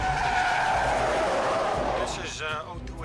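A police car in a video game skids to a halt on a street, its tires squealing loudly in a long screech that fades as it stops, followed by brief voice-like sounds near the end.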